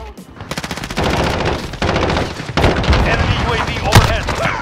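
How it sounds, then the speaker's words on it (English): Dense, rapid automatic gunfire from the Call of Duty Modern Warfare video game, loud and nearly continuous, with bursts, booms and the clatter of combat running together throughout. "I'm taking fire!"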